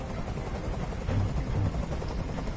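A helicopter in the video game Detroit: Become Human thrums steadily with a low, continuous rotor drone that swells slightly midway, moderately loud and without speech.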